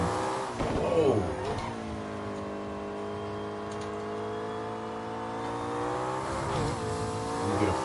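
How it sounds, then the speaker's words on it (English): Turbocharged race car engine in a racing game, a steady droning whine with rising and falling harmonics as the car holds speed, brief revving swells near the start and end, while someone talks over it. "I love the turbo sounds."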